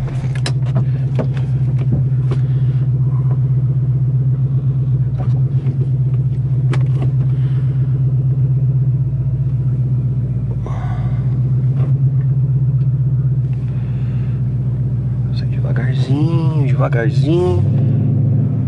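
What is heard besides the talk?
Ford Mustang V8 car driving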